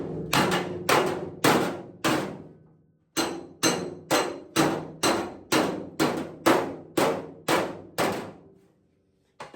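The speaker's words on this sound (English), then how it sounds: "I need a little hammer and dolly on the bottom" Hammer and dolly work on a weld line on a 1972 VW Super Beetle body: a steady series of loud, close metallic strikes, about a dozen in regular rhythm with a short pause partway through.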